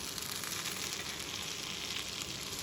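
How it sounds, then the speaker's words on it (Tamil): Green beans sizzle and fry in a pan with onions, a steady, dense hiss running evenly throughout without pause, close and continuous as they sauté. "பீன்ஸ் நல்லா வதக்கிக்கலாம்"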